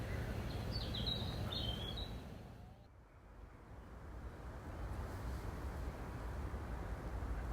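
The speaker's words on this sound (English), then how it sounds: "Although there's a hum of industry in the background, the bird song is still very much the primary sound that you can hear." Birdsong at a nature reserve, a few faint chirps early on over a constant broadband hum of distant industry, which briefly dips and then returns steady for the rest.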